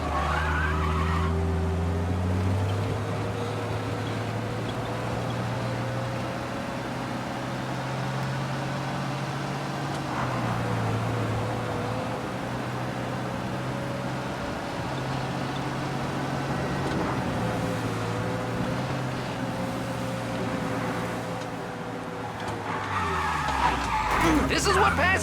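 Car engine revving and tires skidding while driving in the video game Mafia Definitive Edition, a steady loud engine drone with pitch shifts and a burst of tire squeal near the end, with music or voices faintly underneath.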